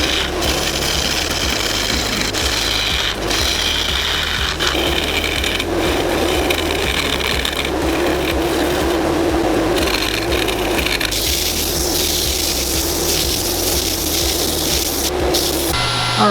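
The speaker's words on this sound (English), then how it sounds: "that was 60 grit you saw me using there to level out the surface" Wooden bowl being sanded with 60 grit sandpaper to level the surface, continuous loud scratchy rasping with rhythmic strokes and brief breaks, close and alone without talk.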